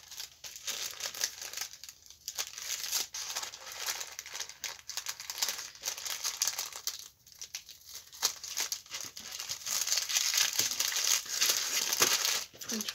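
Wrapping paper crinkles and tears continuously as a package is unwrapped close by, with busy rustling and crackling bursts throughout and faint voices in the background.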